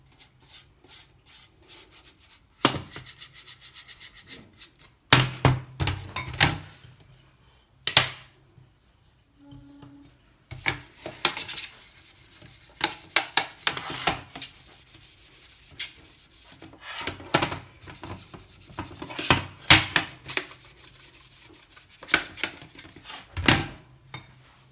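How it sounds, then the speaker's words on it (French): Butter being brushed all over a 20 cm bread tin for pain de mie, giving repeated scratchy rubbing strokes in bursts, close and fairly loud, with brief pauses between passes. "Je badigeonne bien de beurre partout"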